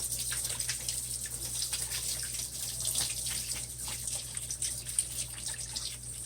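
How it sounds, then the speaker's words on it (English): Hands washed under a running tap: a continuous, even stream of water splashing into a sink, close and moderately loud throughout, with no voices. "let me wash my hands real quick"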